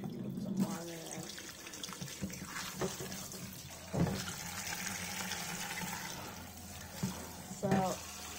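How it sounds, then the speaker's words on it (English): Tap water runs steadily into a container holding cow tripe being washed in a kitchen sink, a close, continuous splashing flow with a few louder knocks. A person talks over it at times. "So I'm going to get some water in there."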